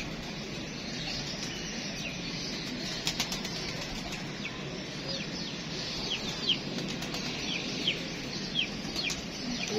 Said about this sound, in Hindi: कितने दूर से कबूतर आ रहे हैं